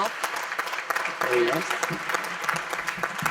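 Audience applause for award presenters at a live community show, moderately loud crowd clapping with a voice talking over it partway through.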